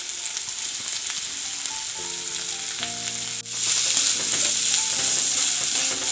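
Crushed ginger and garlic go into a pan of frying onion for fish keema, bringing a steady, close sizzle that grows louder and brighter partway through as the ingredients are stirred in.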